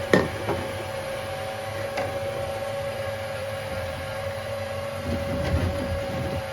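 A gold magic spiral gold recovery machine runs steadily, pushing bigger cobbles down its track, giving a continuous mechanical hum and rumble with occasional sharp knocks of stones clattering.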